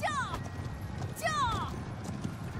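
Horses gallop in the medieval battle video game Conqueror's Blade, their hoofbeats a steady clip-clop beneath two whinnying calls and game voices.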